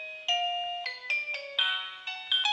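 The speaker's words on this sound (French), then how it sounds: "vous avez une note de musique, ce qui vous permet de sélectionner en fait la mélodie de la sonnerie." Electronic ringtone melody from an EXTEL LEVO or STEP touchscreen video intercom, a short sequence of clear synthetic tones stepping through pitches, playing alone and close.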